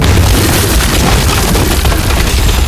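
A loud, sustained roar of an explosion fills the whole stretch, a dense rumbling blast with no pause.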